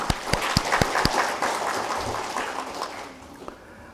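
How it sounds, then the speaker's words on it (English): An audience at a hotel industry HR summit inauguration gives a brief round of applause, sharp individual claps at first merging into a hall-filling patter that fades out. "And a little round of applause for that."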